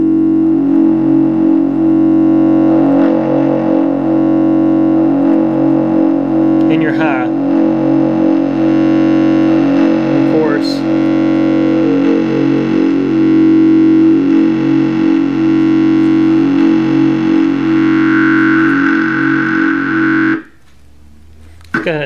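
Polymoog synthesizer run through a Dotcom resonator module on its mid section, a loud, buzzy sustained tone with pulsing harmonic steps and a rising whistle near the end before it cuts off abruptly.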